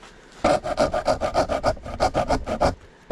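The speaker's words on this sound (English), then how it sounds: "The hacksaw is going to be your slowest option." A hacksaw rasps back and forth in quick, even strokes through kayak plastic, about a dozen rhythmic cuts through hard material, close and fairly loud.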